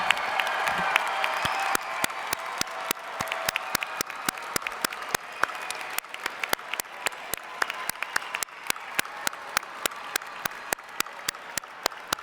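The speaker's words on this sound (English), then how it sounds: "Let's give them all one more round of applause for the support they've shown you over the years." At the Portland Community College 2018 commencement, the audience bursts into full applause, then settles into sharp, evenly spaced claps with a crowd murmur underneath for about twelve seconds.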